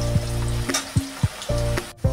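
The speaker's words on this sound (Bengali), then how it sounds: "ভেজে নেবো ভালো করে" Thin-cut carrot strips fry in hot oil for fried rice, a close, steady sizzle with several soft scraping strokes of a spatula turning them in quick succession.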